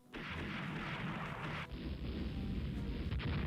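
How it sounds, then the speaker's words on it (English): 4-inch naval guns firing in the Rule The Waves naval game: a sustained roar of rapid, overlapping gun blasts with a sharp shift in tone partway through, loud and without speech. "What we need to do is close the distance and start letting the 4-inch guns just light them up."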